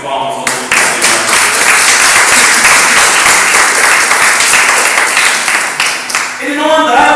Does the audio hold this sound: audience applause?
yes